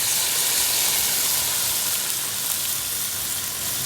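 Peppers sautéing in olive oil with onion, spring onion and garlic in a pan, giving a dense, steady hiss that stays loud and even throughout with no talking.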